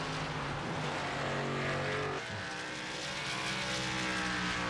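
A K&N Series stock car engine drones loudly around Bristol Motor Speedway, then its note drops abruptly partway through as the driver backs off and nearly shuts the engine down, continuing at a lower, softer pitch.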